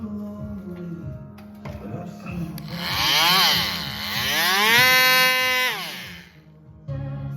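An electric sander whines loudly on wood for a few seconds, rising and falling in pitch, then cuts off, with rhythmic knocking and rumbling before and after.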